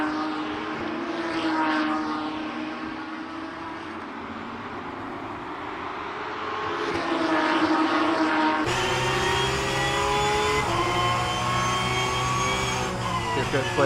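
Porsche 911 GT3 Cup 992 race cars roaring through a chicane in a European series race, engines rising and falling as they brake and accelerate, loud and close, with commentary over the top.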